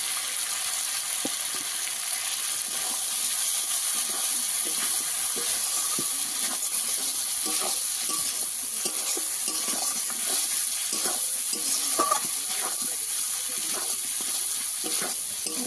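Fish frying in a pan with potato pieces added, giving a steady close sizzle and scattered stirring scrapes and clicks throughout, with no talking.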